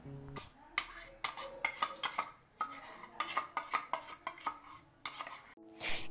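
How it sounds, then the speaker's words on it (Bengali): A spoon clinks and scrapes steadily against a bowl as milk and yogurt are stirred together for mishti doi, Bengali sweet curd, with repeated close metallic taps and swishes and no voices. "এবার এই দুধ আর দইটিকে খুব ভালোভাবে মিশিয়ে নিতে হবে যাতে এর মধ্যে কোনো দানা দানা অংশ না থাকে"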